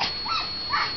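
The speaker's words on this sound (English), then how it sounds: "So this is an occasion for barking." A dog alone in a yard, barking at girls riding bicycles down the street, lets out a couple of quick high yips and whimpering barks at close range.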